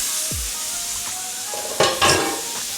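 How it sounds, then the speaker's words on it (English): Pork chop searing in a hot, smoking oiled pan: a continuous close sizzle with a couple of louder bursts as the meat lands and shifts, and no talking. "Now we're gonna sear our pork chop."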